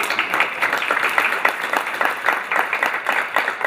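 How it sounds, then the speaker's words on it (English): An audience at an engineering conference session claps for volunteers, a dense, steady round of applause with individual claps audible, heard at moderate distance. "if we can give them a round of applause"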